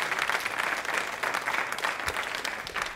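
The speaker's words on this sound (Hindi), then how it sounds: "तालियां जोरों से बजाइए इस संकल्प के लिए।" An audience at a televised quiz show claps loudly and continuously, the applause dense and slightly pulsing, with no voices over it.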